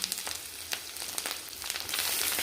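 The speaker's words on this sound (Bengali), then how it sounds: "এটা একটু কষে নেব" Garlic and ginger paste fries on onions in a pan, giving a soft, crackly sizzle with scattered pops at close range.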